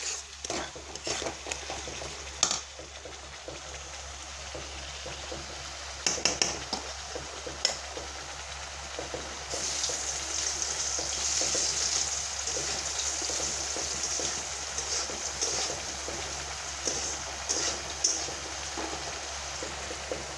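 Spices and coriander powder frying in a pan, a soft, faint sizzle under light, irregular stirring and scraping, heard up close with no talking.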